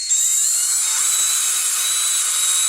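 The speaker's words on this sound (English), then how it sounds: "we're going to use a 1/8 drill bit for this" A 1/8 drill bit bores rounded corners into a plastic food container for a robot prototype, a continuous high-pitched whine held steady and loud close by, with no speech.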